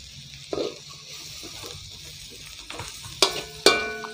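Cabbage and green chillies sauté in a pan for Sri Lankan chicken kottu roti under a soft steady sizzle, with a few spatula stirs and two sharp scraping clatters near the end.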